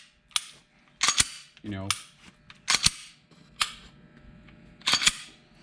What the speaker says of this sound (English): Then I hold it again and dry fire